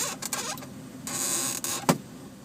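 Short creaks and squeaks of a plastic car sun visor hinge being moved on the passenger side of a 2011 Volvo C30 T5 R-Design, a few brief squeals with small clicks between them, close up.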